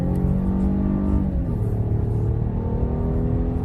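A car fitted with lightweight wheels accelerates hard through a 0-60 run, its engine drone loud and steady from inside the cabin, climbing in pitch with a gear change early on before pulling again.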